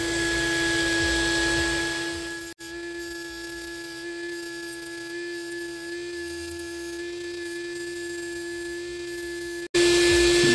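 Ryobi rotary tool spinning at about 25,000 RPM to cut nickel strips on 18650 battery cells makes a steady, close, high-pitched whine, broken by two abrupt momentary dropouts, with no speech.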